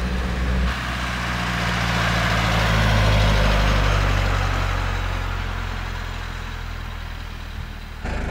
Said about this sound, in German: Also ihr könnt diesen herrlichen Dieselsound hören, wie er 220 war.